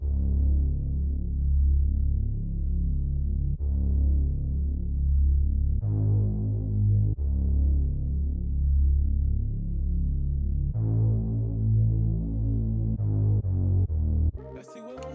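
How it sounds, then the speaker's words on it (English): A one-shot bass sample in a dark ambient melody plays deep, sustained tones that step between root notes in a slow sequence, ending with a brief sharp click. "Lastly, I added this one-shot bass."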